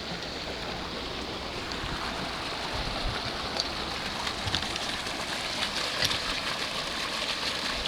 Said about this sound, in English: there's the waterfall. There's the water fountain.